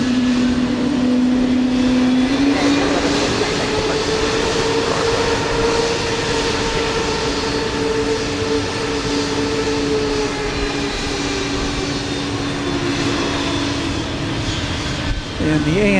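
ANA airliner jet engines at Houston Intercontinental airport, a steady loud roar with a rising-then-falling whine across the whole stretch, tower radio chatter and voices under it.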